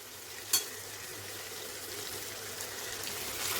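Ridge gourd bhaji with tomato and garlic paste is stirred in a pan, a soft continuous sizzle with light scraping and one sharp clink near the start, fairly quiet and close.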